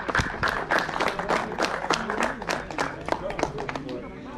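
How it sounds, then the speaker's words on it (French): Crowd applauding at an RC car race awards ceremony, dense close clapping that carries on steadily under talking voices. "on peut les applaudir."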